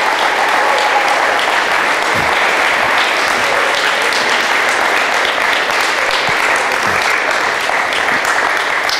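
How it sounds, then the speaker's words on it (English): A crowd at a high school signing ceremony for four student athletes and their parents applauds loudly and steadily for the full nine seconds, a dense, even wash of many hands with no talk above it. "Please join me in giving the Mancinis, the Coxes, the Jumas, and the Mesmers a very well-deserved round of applause."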